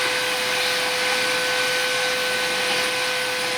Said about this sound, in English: I need to vacuum this place up.